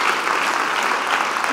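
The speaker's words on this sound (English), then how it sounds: "Give yourselves a round of applause." Audience at a public salon on energy storage claps for themselves. The even, moderately loud applause runs through the brief moment without a break.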